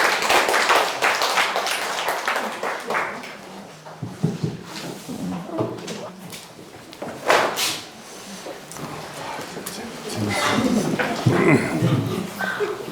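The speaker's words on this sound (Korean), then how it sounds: "박수로 맞아주시죠." Applause from a book-concert audience greeting a traditional Korean singer as she comes on stage, with steady dense clapping that thins out and swells again, heard from within the hall alongside some talking.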